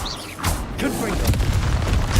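Confringo fire-blast spell in Hogwarts Legacy, a close booming burst with a rushing, crackling blast that sustains briefly as the spell lands.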